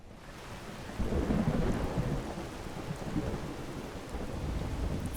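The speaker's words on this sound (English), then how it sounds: "is it gonna stop raining anytime soon, or am I just gonna have to wait this out the whole time?" Steady rain falls in the video game Skyrim while low thunder rumbles continuously beneath it, swelling after the first second and holding as a dense, even wash.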